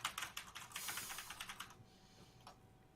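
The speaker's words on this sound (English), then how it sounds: "You're just mashing buttons over there." Rapid, clattering key presses as someone mashes buttons on a computer keyboard, a quick irregular burst of clicks that fades to a few faint taps, quiet and close.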